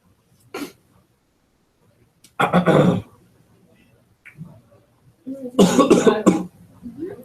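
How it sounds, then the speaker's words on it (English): A few close coughs, one brief and two longer harsh bursts, separated by pauses with faint low background hum. "I have a bit of a cough."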